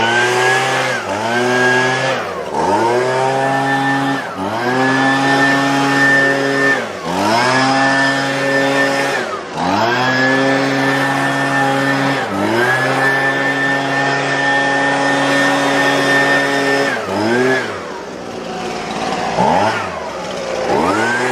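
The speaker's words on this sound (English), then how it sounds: "I'm just going to clean it up with a leaf blower" A Husqvarna 125B handheld leaf blower's small two-stroke engine runs loud and close, its whine dipping and surging repeatedly as the throttle is eased and opened again.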